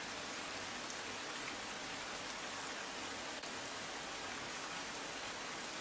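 Heavy downpour in Rajkot city, a dense, even hiss of rain falling steadily and continuously without any break, with flooded streets and roads around.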